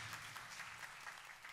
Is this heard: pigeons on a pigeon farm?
no